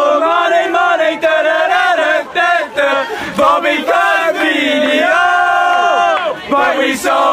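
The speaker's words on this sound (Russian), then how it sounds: "у болельщиков есть потрясающе крутая песня в поддержку своих футболистов, которую они распевают где угодно и при любой возможности" Liverpool football fans singing their support song, a large crowd chanting a sustained melodic tune together, loud and continuous with shifting pitches.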